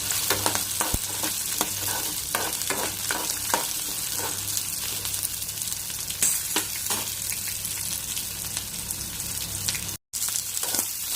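Garlic and ginger fry in hot oil with a loud, busy sizzle and crackle, punctuated by repeated spatula scrapes and taps, broken by a brief moment of silence near the end.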